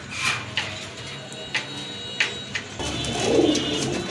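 Giribaz racer pigeons coo softly in a loft, low throaty calls rising here and there amid light rustling and faint background noise.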